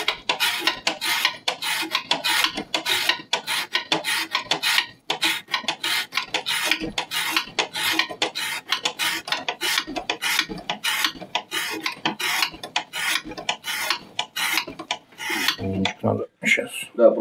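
A knife blade saws repeatedly through material in an edge-retention test, producing a fast, rhythmic rasping scrape of rapid close strokes that continue steadily for the whole stretch, with no talking.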